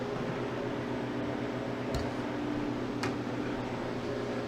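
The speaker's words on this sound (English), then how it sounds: "not even turning off the freeze dryer" A freeze dryer hums continuously nearby, a steady whirring drone with a couple of faint clicks, with no voices.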